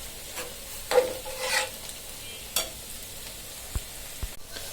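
Prawns and ground spices fry in a pan, with a soft steady sizzle broken by a few scraping stirs and two sharp taps against the pan, close and moderately quiet.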